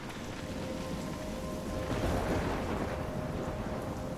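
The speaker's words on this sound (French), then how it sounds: "Une sacrée tornade, tempête, je sais pas, enfin tempête je pense." Storm wind and distant thunder roar in the video game Life Is Strange, a steady dense gusting wash that swells slightly midway, with no voices over it.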